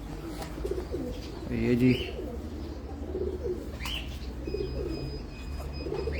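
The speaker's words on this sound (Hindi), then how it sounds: "यहाँ से उनके कबूतर उड़ते हैं" Pigeons coo steadily on a rooftop in Abu Dhabi, close and layered over outdoor background noise, with a few chirps and someone speaking briefly.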